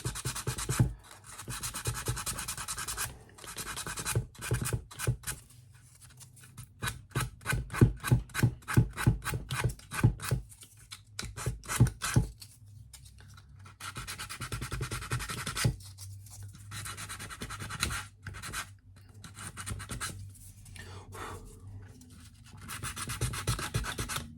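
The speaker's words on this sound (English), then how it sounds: "I'll just start doing some sanding here to get some of the old wood out." Sandpaper rasps rhythmically over old wood on a Santa Maria ship model, quick back-and-forth strokes in steady bursts with brief pauses between them, close and dry.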